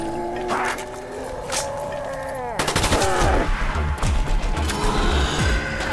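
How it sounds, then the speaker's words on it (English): Submachine gun fire in a video game on the Ascension map, starting partway through as a loud, sustained rapid burst of dense shots, preceded by quieter game ambience and mechanical sounds. "An SMG! Now I just need one for my other hand!"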